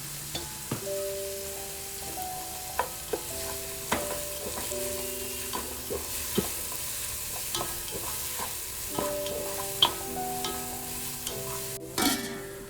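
Onion and tomato masala sizzles in a pan as it is mashed and stirred, with repeated close clanks and scrapes of a utensil against the metal over a continuous frying hiss.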